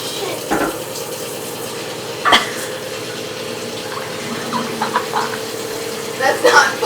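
Water gushes from an overflowing flushing toilet, a steady rushing pour with splashy bursts, heard close while people talk over it.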